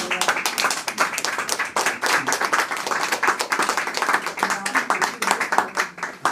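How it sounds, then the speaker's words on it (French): A small crowd at a gallery vernissage for artist Lucien Viroulet claps, producing crisp, uneven hand claps close by, with some voices talking underneath. "on applaudit en fait l'artiste, M. Bérébi"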